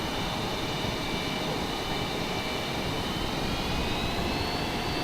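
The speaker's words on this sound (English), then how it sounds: "Actually, let's do a short field takeoff." Su-35 fighter jet in Microsoft Flight Simulator spooling up for a short field takeoff, a steady loud roar of jet engine noise with a rising whine held throughout, no talking.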